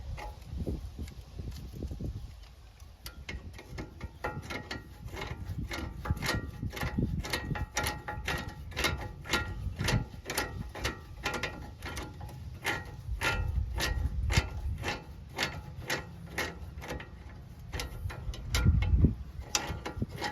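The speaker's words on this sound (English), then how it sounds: "this is the old school ratchet wrench" An old school ratchet wrench tightens a level kit bolt on a 1995–2004 first-gen Toyota Tacoma. It gives a steady run of crisp clicks close up, in bursts, with some soft mechanical clunks between strokes.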